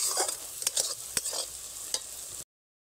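Spice paste stirred and fried dry in a kadai for a fish curry, a steady sizzle broken by sharp scrapes and taps of the spatula, close and continuous.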